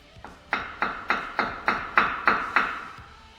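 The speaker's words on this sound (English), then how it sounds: "So I was able to get that out with just the hammer." A hammer strikes a tie rod on a 2023 Ford Bronco, ringing out about nine evenly spaced metallic blows, close and sharp, each with a short decaying ring.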